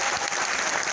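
An Ayurveda lecture audience gives a brief, dense round of applause, steady and fairly loud throughout the second, with no voices over it.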